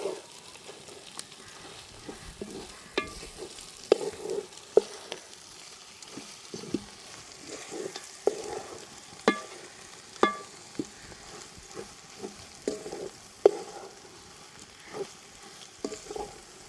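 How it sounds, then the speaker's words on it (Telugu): Ginger garlic paste frying in a pan for stingray fish dish, a steady soft sizzle broken by repeated scraping stir strokes, close and alone with no talk. "అల్లం వెల్లుల్లి పేస్ట్ బాగా ఉడికింది."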